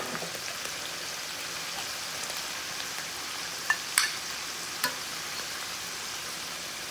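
Butter sizzles in a frying pan with a steady, even crackling hiss, a few faint clicks and pops rising briefly over it, no voices.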